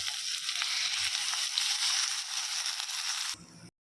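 Chopped tomatoes sizzle and crackle loudly in a hot pan with onions for chicken thokku, a steady bright frying hiss that cuts off abruptly near the end.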